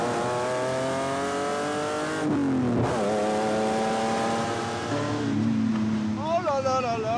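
A V12 car engine revs smoothly and linearly, its rising and falling harmonics sustained up and down through several climbs. A voice speaks over it near the end.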